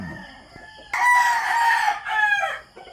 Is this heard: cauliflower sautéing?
no